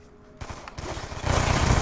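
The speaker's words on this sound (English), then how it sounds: "Oh, I hate these pistols." Pistol fire in Call of Duty Black Ops 2, a short run of loud, rapid shots building in intensity over about two seconds.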